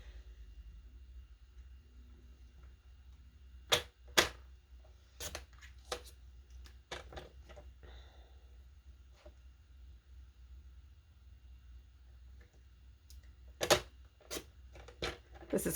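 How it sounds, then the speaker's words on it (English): A paper trimmer cuts card for a Christmas card in a quiet room, giving a few faint, crisp clicks and sliding snaps in small clusters against near silence. "I'm just going to cut that on my trimmer"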